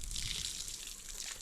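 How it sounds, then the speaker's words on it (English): Water poured over newly planted green onions in a garden bed, a steady soft hissing splash, brief and faint. "We're going to hit this with some water"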